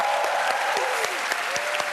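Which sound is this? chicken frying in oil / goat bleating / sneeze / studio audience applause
studio audience applause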